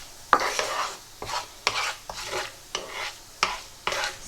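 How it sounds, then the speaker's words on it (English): Cumin seeds in hot oil for a Mughlai chicken curry, a soft sizzle broken by repeated sharp spoon scrapes and stirring strokes against the pan, roughly every half second, close and alone. "you want to cook this enough just so that the cumin seeds start to sizzle"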